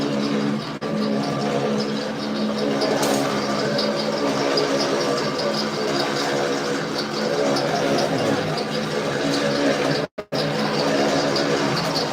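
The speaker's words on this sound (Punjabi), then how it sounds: "ਤੇ ਆਟਾ ਮਸ਼ੀਨ ਲਾਈ ਹੋਈ ਆ" Flour (atta) machine running in a Sikh langar kitchen, a loud, steady mechanical drone with a constant hum that continues throughout, briefly cut off near the end.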